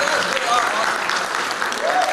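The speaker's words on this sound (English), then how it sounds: "give yourself a round of applause" A convention panel audience claps steadily and loudly throughout, with a few cheers and voices mixed into the dense applause.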